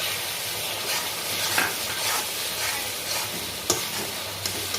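Tomato puree is stirred into ground coriander, cumin and chilli paste frying in a pan for soya kofta curry, giving a steady close hiss and sizzle with spoon scrapes and a few sharper knocks.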